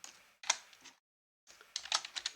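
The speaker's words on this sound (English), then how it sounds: "So if you start typing it" Short bursts of computer keyboard typing, close and fairly quiet, two quick clusters of clicks separated by a brief pause.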